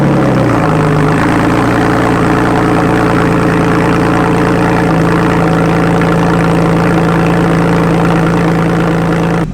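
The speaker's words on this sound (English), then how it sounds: "I'm going to include a previous cold start right here." A loud modified Porsche engine at cold start, settling quickly into a steady, throbbing, rumbling idle that carries on unbroken and close.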